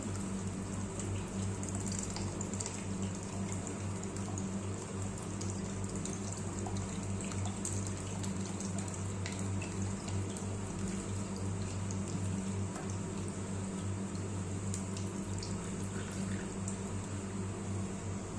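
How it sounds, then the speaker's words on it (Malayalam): Rice payasam made with Navara rice bubbles in a pot on the stove, a steady, dense, continuous simmering hiss and rumble lasting throughout, even in level, with no talking. "ഒന്നും കൂടി തിളച്ച് വരുന്നുണ്ട്"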